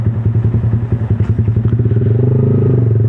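Yamaha MT-15 motorcycle with a bored-up engine idling close by, a loud rapid throbbing exhaust beat that lifts slightly in revs toward the end, no talk.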